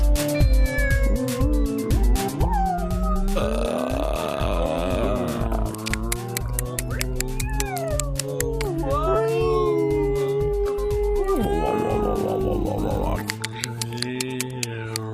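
Voices imitate whale calls with long, wavering, drawn-out moans and squeals, several people overlapping loudly and continuously up close.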